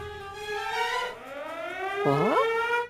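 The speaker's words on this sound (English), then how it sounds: "the emergency sirens start blaring at that exact moment" Loud wailing emergency sirens rise and fall in pitch, with a second siren sweeping up sharply near the end, continuous and alarming.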